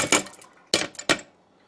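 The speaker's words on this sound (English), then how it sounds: "take your rice and put it in your rice cooker" Dry rice tipped into a rice cooker pot lands in three quick rattling pours, each a short gritty rush that fades fast, close and fairly loud with no talk.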